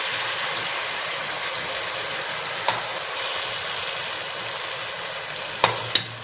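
Tomato paste frying with browned onions and spices in a pan for chicken kofta, a steady loud sizzle throughout, with a few sharp clicks of a spoon stirring near the end.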